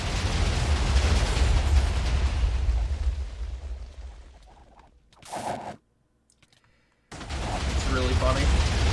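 Minecraft explosions boom through a mob battle, a dense, loud barrage of blasts that fades, then one sharp burst, a short silence and the rumbling resumes.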